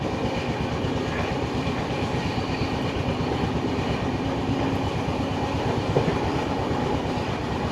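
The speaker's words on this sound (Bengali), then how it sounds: "আর এখন ট্রেন মোটামুটি ভালোই টানছে" The Puri Garib Rath Express runs along its route to Puri, giving a steady, dense rumble with continuous clickety-clack from the wheels, heard from inside the train with no talk.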